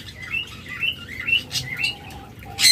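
Soft diamond dove calls repeat in short rising phrases, several in a row, close by, with brief gaps between them and no talking.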